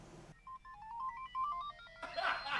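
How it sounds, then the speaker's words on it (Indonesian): A mobile phone rings with an incoming call, a short electronic melody of stepped beeping tones, moderately quiet, followed by a burst of rustling noise. "ada telepon yang masuk lagi?"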